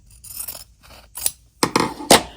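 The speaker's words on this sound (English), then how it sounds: "we're just going to cut off this excess like this" Scissors snip off excess quilt fabric in a handful of short, crisp cuts. The first cuts are quieter, and two sharper, louder snips come near the end in an otherwise quiet room.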